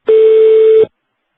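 A single steady electronic beep from a telephone conference line, loud and pure, lasting under a second before cutting off into silence.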